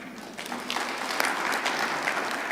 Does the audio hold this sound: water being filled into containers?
no